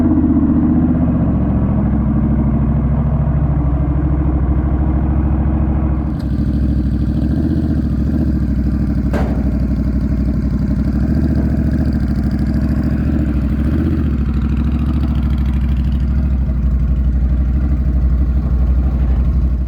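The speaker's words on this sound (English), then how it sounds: "I'm going to walk the bike up, but I'm going to use the bike's power to actually ride up" A Honda Rebel 1100 motorcycle idling loud and close with a continuous throbbing low rumble, holding steady throughout, with no talk.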